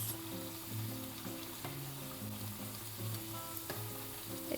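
Pişi dough fries in a shallow layer of oil in a pan, giving a steady close sizzle and crackle that runs unbroken throughout.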